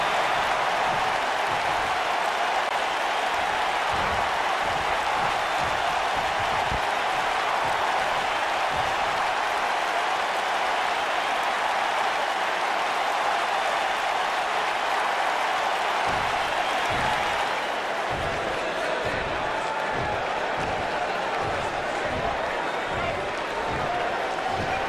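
Arena crowd in the WWE 2K19 wrestling video game, a steady dense roar of cheering and applause filling the whole stretch, with faint thumping beneath it.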